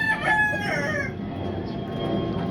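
A stag rooster crows loudly and close by in a farm setting, one drawn-out call that fades after about a second, leaving steady background noise.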